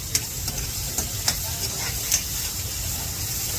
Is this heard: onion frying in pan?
yes